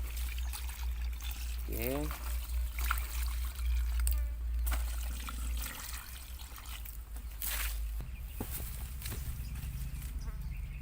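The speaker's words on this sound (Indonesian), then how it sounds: "Ini langsung kita siramkan ke tanaman ya, ke tanaman jeruk nipis kita ya, kira-kira 1 literan lah ya" NPK fertilizer solution poured onto a young lime plant, a trickling, splashing stream of liquid heard close under outdoor background noise, with a brief spoken word.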